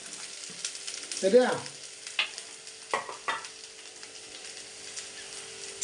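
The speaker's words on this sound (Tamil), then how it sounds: "வெங்காயமும் பூண்டும் ஓரளவு வசங்கிட்டு பாருங்க." Onion and garlic frying in hot oil crackle softly, with a few sharp spatula scrapes against the pan and a brief spoken word near the start.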